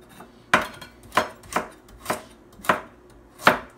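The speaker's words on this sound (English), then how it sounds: "just cut carrot in little circles" Knife chopping a carrot into little rounds on a cutting board: six crisp, evenly spaced chops, close and clear, with quiet pauses between strokes and no talking.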